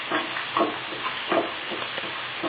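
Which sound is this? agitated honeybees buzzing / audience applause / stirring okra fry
stirring okra fry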